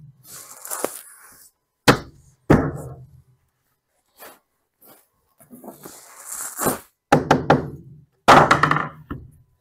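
Cabinet sides are nailed together, with sharp, separate nail-gun bangs and knocks spread unevenly across the clip, separated by quiet gaps and followed by some handling noise.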